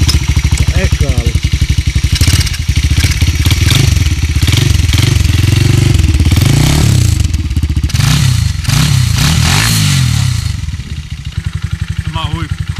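Honda ST70 Dax light motorcycle engine running close by, a loud rough putter with repeated throttle blips rising and falling, while people talk over it.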